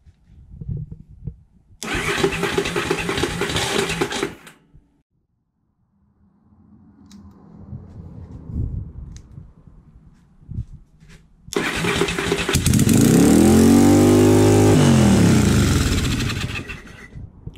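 A Yamaha XV750 motorcycle engine cranks briefly with the choke on, falls quiet, then catches and roars to life with loud, sustained revving close by.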